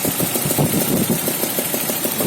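An idling BMW M52 2.0 engine with a knocking fault on its left side, a loud, close, fast and regular ticking knock riding over the steady running hum.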